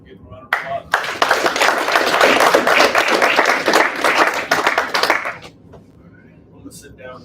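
An audience at an athletic leadership meeting breaks into sustained, dense applause lasting several seconds, then it fades to scattered claps and quiet.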